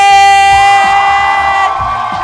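A large Brooklyn crowd cheers and whoops loudly for an entrance over a steady musical tone, the roar holding strong throughout and easing slightly near the end.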